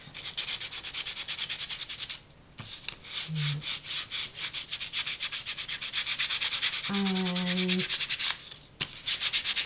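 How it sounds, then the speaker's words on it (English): Fabric of a handmade tag bag is rubbed lightly by hand to smooth it, a close, soft, rhythmic swishing of repeated strokes with short pauses, nearly alone except for one brief spoken word. "Just give them a little light rub so it feels seamless."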